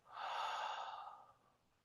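One slow, steady exhale from a person doing a calming breathing exercise: a soft, airy breath close to the ear that swells, holds and then fades away.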